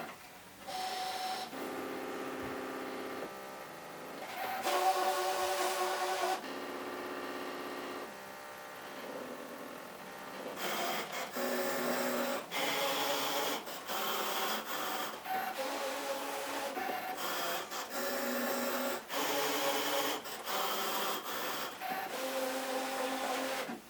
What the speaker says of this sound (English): Now I'm going to cut, and now I need to change to my fabric blade